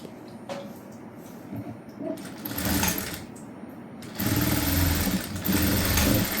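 A sewing machine stitches blouse fronts to the back panel of a prince-cut blouse, whirring in short bursts that grow longer and louder, with brief pauses between runs of stitching.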